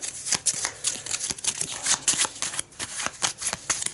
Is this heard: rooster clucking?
no